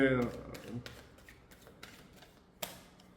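A deck of tarot cards is shuffled close up in a few quick riffling bursts with soft slaps and a sharp snap near the end, after a brief voice at the very start.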